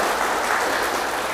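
A church congregation applauds and cheers for Jesus, a dense, steady wash of clapping from a large crowd that holds at an even level throughout.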